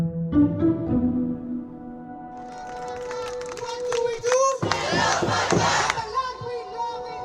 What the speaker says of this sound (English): This is the sound of a protest calling for a permanent ceasefire in Gaza.